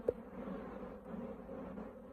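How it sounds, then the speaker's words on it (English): Honey bees buzz around an opened hive during the last honey harvest, a steady droning hum of many insects close by, with one brief sharp tap near the start. "Poor bees don't like it very much"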